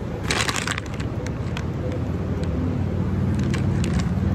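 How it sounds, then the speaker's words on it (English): Vehicles crossing a river bridge overhead, a constant rumbling road drone with scattered clicks and rattles, heard at a moderate distance while people talk nearby. "You see the vehicles? going across the bridge."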